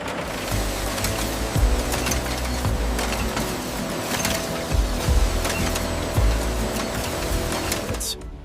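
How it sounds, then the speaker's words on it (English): Dense clattering and rhythmic mechanical thumping of a factory crushing machine breaking inner bamboo stalks into loose fiber strands, loud and continuous with no voices. "The inner stalks go into a crushing machine, breaking them apart into raw, loose fiber strands."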